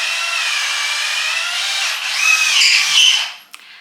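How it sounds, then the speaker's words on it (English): A power tool driving screws into a wooden stair railing indoors, a steady close whine that rises in pitch briefly before cutting off with a small clack at the end. "Jacob is screwing on our actual stair railing part."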